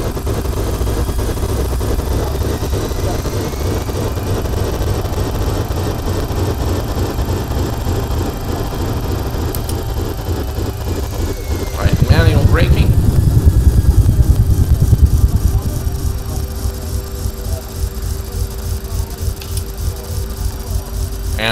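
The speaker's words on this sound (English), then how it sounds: "reversers are out" A simulated CRJ 200 jet in X-Plane 11 with an add-on sound pack rolls out after landing at San Diego with thrust reversers deployed: a steady engine roar swells into a louder, deeper rumble for a few seconds, then eases back.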